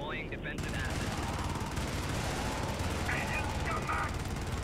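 Sentry turret in Helldivers firing long, continuous automatic bursts, loud and close, a rapid mechanical rattle that runs almost without pause.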